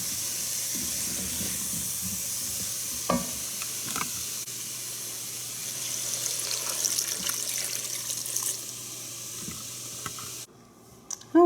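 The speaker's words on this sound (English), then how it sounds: "and add some water" Water running steadily into a cooking pan on medium-high heat, with a faint sizzle and stirring under it. The flow holds alone and constant, then briefly drops quiet near the end.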